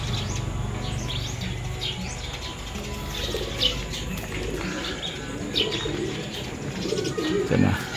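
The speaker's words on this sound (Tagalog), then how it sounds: "Yan na yung mga ibon natin." Pigeons coo and chirp outdoors during a training toss in Pinamalayan over a steady low rumble of background noise, with occasional wing flutters; no talking.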